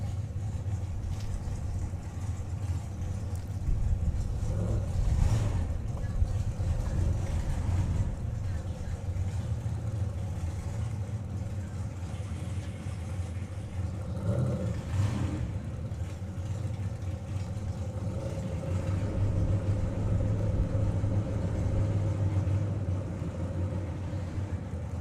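A naturally aspirated big-block drag racing car at a summer nationals meet, a steady loud engine drone lasting throughout with brief surges, heard from a distance under crowd ambience.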